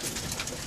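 Pigeons cooing inside a Polish pigeon loft, a brief, close burst of soft throaty coos over faint rustling background.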